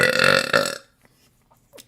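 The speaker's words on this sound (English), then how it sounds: "Okay, the burp is out, I think." A single loud, long human burp sits close to the mic, a rough throaty eructation lasting under a second, followed by near silence and a faint small sound.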